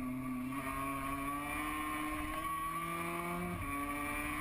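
MotoGP racing motorcycles downshifting from sixth to second gear on a downhill run into turn one, sustained loud engine whine with stepped pitch drops, no talking.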